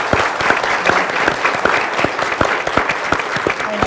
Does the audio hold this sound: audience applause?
yes